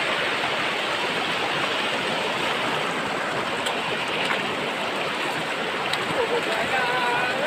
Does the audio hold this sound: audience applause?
no